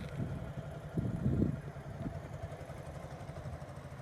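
A motorcycle engine idling low and steady, with a brief rev swelling in the middle before it settles back to a quiet rumble.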